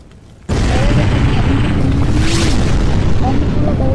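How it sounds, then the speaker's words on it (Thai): Animated explosion effect: after a quiet half-second a loud burst erupts and then rumbles on as sustained roaring noise, with a frantic voice shouting over it. "คอมกูระเบิดแล้วมั้งเนี่ย"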